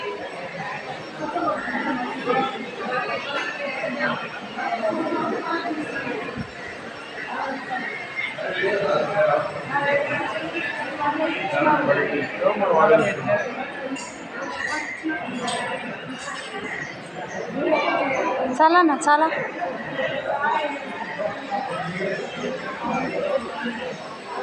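Saturday crowd at Shani Shingnapur temple, a steady hubbub of many voices with occasional metallic clinks, as nearby people talk over the murmur throughout.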